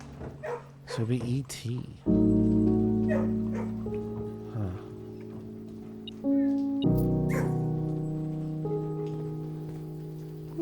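Dog in the video game Blue Prince giving short yips and whimpers, its calls mixed under a man's speech and sustained musical tones.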